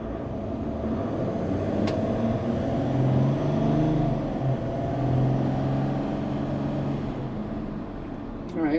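A van pulls away from a stop and accelerates, its engine rumbling low and rising steadily in pitch and strength, heard from inside with people talking over it.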